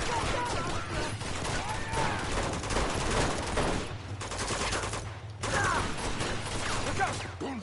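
Gunfire in Uncharted 2: Among Thieves, a loud near fusillade of rapid shots with mechanical clatter. The firing runs almost continuously, breaking off briefly twice, with voices mixed in.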